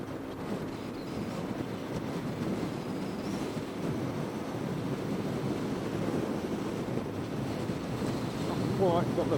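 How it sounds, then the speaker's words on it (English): Steady broadband wind roar buffets the microphone while riding a Sinnis Shuttle 125cc scooter into a headwind on the A38, a continuous dense rush with no break throughout. "We've got a headwind as well, which is not very good."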